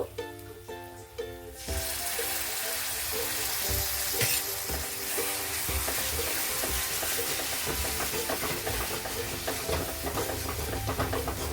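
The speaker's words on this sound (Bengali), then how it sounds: "এখন আমি টমেটো যে পিউরি করে রেখেছি, টমেটো পিউরিটা দেব।" Tomato puree goes into hot oil in a frying pan for a puti fish curry and bursts into a loud sizzle that keeps hissing, with rhythmic scraping of stirring, after a quieter opening of cooking sounds.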